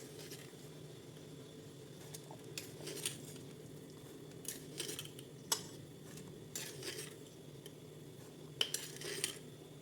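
A spoon stirs salt into a pot of boiling water, with soft scraping and several sharp metallic clinks against the pot over a quiet bubbling background.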